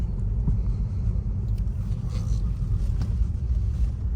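A BMW pulls away and drives on, heard from inside the cabin as a steady low engine and road rumble with faint interior knocks and no talking.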